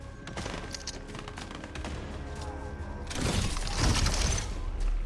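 Rapid bursts of gunfire from War Machine's turrets in Fortnite, a dense crackling fusillade that grows louder and heavier in the last two seconds, with no talk.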